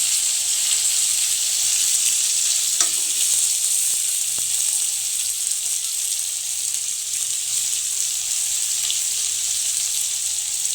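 Spices tipped into hot oil while cooking rui fish with black cumin, giving a loud, continuous hissing sizzle that holds steady throughout, with a couple of faint clinks partway through.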